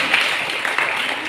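A congregation claps during a church service, a steady wash of applause with no distinct individual claps standing out, moderately loud throughout.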